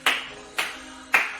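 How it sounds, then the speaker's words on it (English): Three sharp, evenly spaced hand claps in a senior Latin dance fitness class, each a crisp close strike with a short ringing tail, and quiet between them. "Clap those hands."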